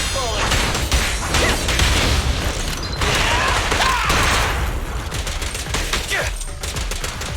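Rapid automatic gunfire in Zenless Zone Zero as the agent Billy fires his pistols, dense sustained bursts of shots with mechanical clatter and whooshing effects running nearly continuously at close range, with a character's voice lines over it.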